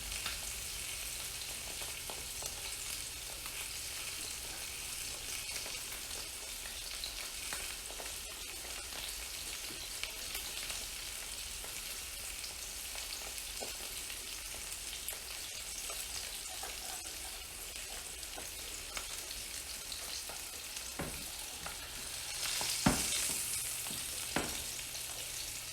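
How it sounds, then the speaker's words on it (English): A Texas-style smoked ribeye steak sears in a pan after reverse smoking, giving a faint, continuous frying hiss for a long stretch, with a few soft clinks and a brief louder knock near the end. "I typically sear it a minute or two on each side and then do the edges"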